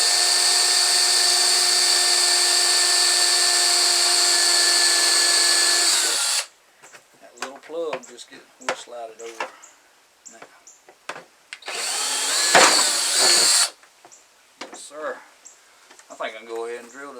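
A power drill bores holes for a DIY Berkey-style water filter, with a long steady loud whine and then a second shorter burst. Close voices talk in the gap between the two runs and after the second.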